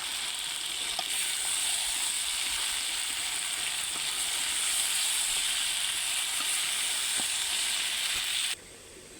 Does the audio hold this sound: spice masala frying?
yes